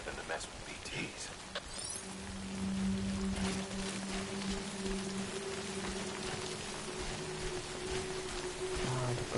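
Steady rain hisses in the video game Death Stranding, a dense continuous patter beneath a low droning ambience, with voices talking over it.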